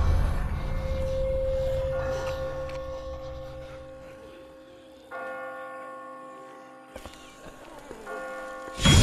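Church bells toll in The Walking Dead video game, steady layered ringing with sustained tones that swell and fade across the clip, then a sudden loud burst at the end.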